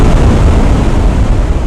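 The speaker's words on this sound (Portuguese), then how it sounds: "Uma explosão colossal iluminou o céu do abismo." A colossal explosion roars as one sustained, very loud, deep rumbling blast that fills the whole moment without a break or any voices.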